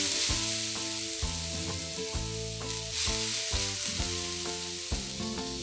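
Grated potatoes for a rösti sizzle steadily in hot oil in a pan, a constant crackling hiss with piano-like music playing along.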